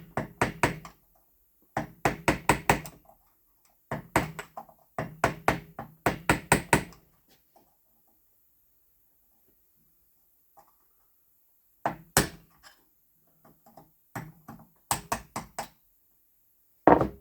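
Hammer knocking a bearing out of a Husqvarna Automower wheel motor held in a vise: bursts of sharp, rapid metallic knocks in clusters with pauses between, close and distinct, no talking.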